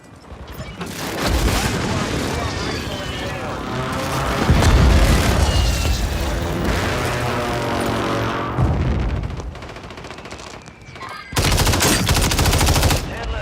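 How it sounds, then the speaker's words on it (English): Airstrike explosions in the video game Warzone sound as a dense barrage of booming blasts and rapid gunfire-like bursts, loud and sustained, with a brief lull before a final heavy burst. "Friendly airstrike in the AO."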